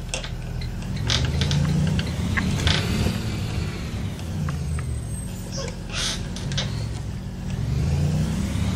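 A bus engine in the Rigs of Rods driving game revs at high RPM, a steady mid-pitched droning roar with faint ticking, fairly loud and sustained throughout with no talk.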